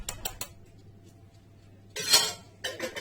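Metal spoons clink against a cup or bowl while two large spoonfuls of cocoa go in, a few quick taps followed by a pause and then a louder burst of scraping and clinking close by.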